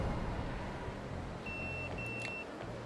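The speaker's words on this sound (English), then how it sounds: "pager's beeping" A pager beeps in the video game Yakuza 0, two short electronic bleeps, faint over a steady background rumble with no talk.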